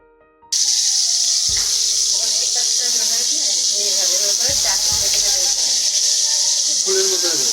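Eggplant slices dropped into hot oil set off a loud, steady sizzle that starts abruptly and keeps crackling and hissing throughout. A person talks over the frying.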